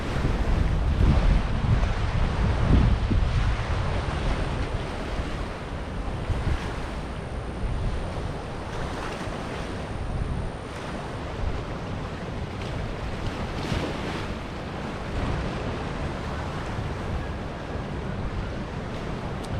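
Strong wind blows across a river flooded after a hurricane, a loud, continuous roar of gusts buffeting the microphone with a wash of water-like rumble underneath.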